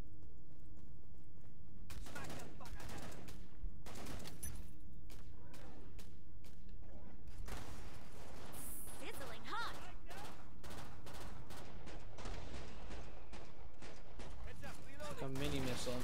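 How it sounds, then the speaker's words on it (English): Mini missile and weapon fire in the video game Killing Floor 2, bursts of sharp shots and blasts scattered through a chaotic battle, with a person talking over parts of it. "A mini missile I'm shooting."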